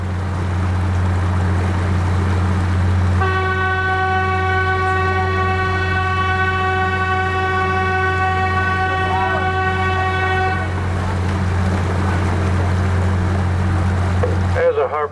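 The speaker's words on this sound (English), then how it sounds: "I'll be sounding a prolonged blast for about 6 seconds on the horn, which is right over the wheelhouse" Boat horn mounted over the wheelhouse of a tour boat off Maine sounds one prolonged blast of about seven seconds. It is loud, steady and tonal over a constant engine rumble, with faint voices on board before and after.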